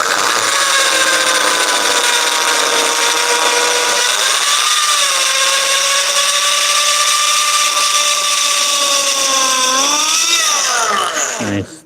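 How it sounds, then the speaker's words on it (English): A power drill whirs continuously at a steady high pitch, shifting slightly in speed midway, then cuts off abruptly at the end, its bit slipping in the chuck. "The drill bit is totally slipping."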